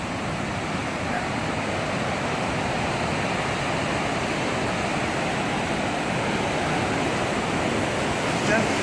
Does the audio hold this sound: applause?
no